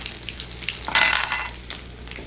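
Mustard seeds, green chilies, fenugreek, curry leaves, asafoetida and sambar masala sizzle in hot oil in a pan while being stirred, a soft crackling hiss that swells briefly and then eases to a quieter spatter.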